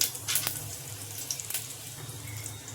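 Cumin and triphala sizzling in hot oil for a Malvani fish curry, a steady close hiss with a few sharp crackles and spatters near the start, without talking.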